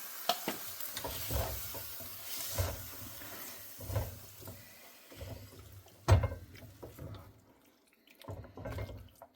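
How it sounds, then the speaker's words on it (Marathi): Soaked cashews go into a hot pan on medium-low heat for a cashew curry, giving a sizzle with bursts of stirring and scraping that come and go, fairly close and with no talking over it. "मग आपले भिजवलेले काजू घालायचे."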